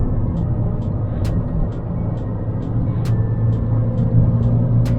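An Abarth 595 Competizione in sport mode accelerates hard, a steady loud engine rumble with rising low drone heard from inside the cabin, with faint periodic clicks over it and no talk.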